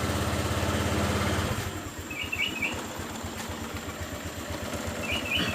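Honda Vario 125 scooter engine catching on the starter, then settling into a soft, steady idle with a regular low putter, heard close by with faint bird chirps in the background.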